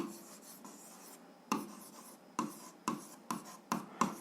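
Handwriting on a surface during an algebra lesson, soft scratchy pen or pencil strokes in short irregular bursts, close and quiet, with no talking.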